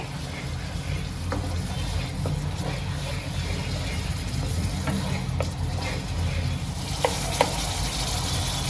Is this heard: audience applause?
no